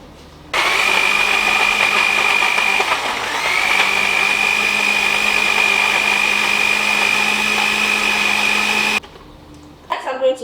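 A kitchen blender whirs steadily and loudly for about eight seconds while blending an antiviral drink mix, with a steady high whine over the motor, then cuts off abruptly, followed by a few brief handling sounds.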